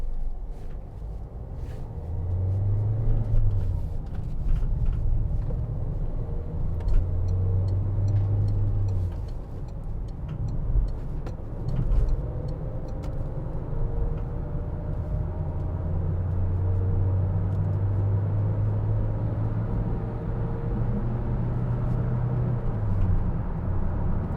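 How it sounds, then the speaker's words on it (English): A 2014 Peugeot Partner 1.6 HDi van cruising on a motorway at around 60–70 mph, with a steady low engine and road drone and a constant rush of wind noise from the roof bars filling the cabin. "Just start to hear the wind noise from the roof bars there when you get to 60."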